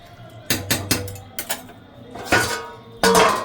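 A metal lid clatters onto a pot of chicken stew in a home kitchen, with several sharp clinks and knocks in uneven bursts, loud and close, no voices.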